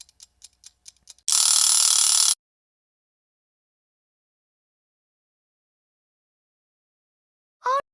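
In a Bing Baking kids' video game, a few light clicks lead into the chicken-shaped oven timer ringing in one loud, bright, one-second burst. Silence follows, then a brief chirp at the end.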